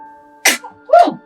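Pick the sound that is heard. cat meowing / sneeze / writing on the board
sneeze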